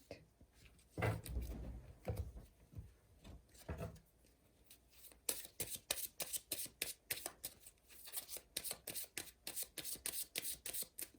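Tarot cards being shuffled by hand, first with a soft rustle, then a long run of quick, rhythmic, crisp riffling slaps, close and fairly quiet, with no talking.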